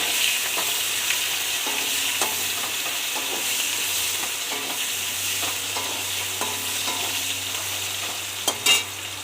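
Chopped onions for a fish curry frying in a pan, giving a steady, loud, close hiss of sizzling oil with occasional stirring scrapes throughout and no voices.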